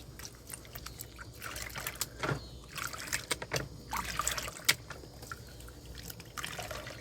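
Water sloshes and trickles over paydirt being rinsed in a gold pan while prospecting, quiet intermittent splashes and pours near the microphone, with no talking.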